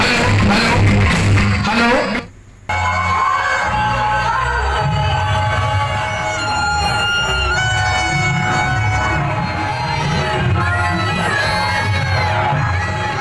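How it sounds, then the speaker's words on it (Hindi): Dense crowd noise at the Salori Dadhikando fair, a continuous close din of chattering voices, children shouting and scattered whoops, with a brief dip into near silence before the hubbub resumes. "देखिए हर तरफ भीड़ ही भीड़ है।"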